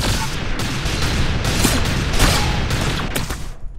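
Dense, continuous gunfire from the Arsenal video game crackles without pause, with shots overlapping into a loud, close barrage and heavier bursts near the middle; no talking.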